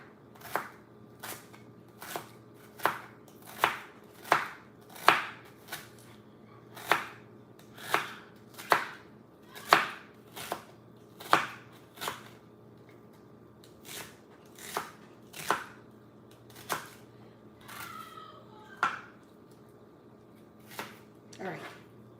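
A knife chops vegetables, onions among them, on a board in about twenty separate sharp strokes at an irregular, unhurried pace, close and crisp against a quiet background with a faint hum.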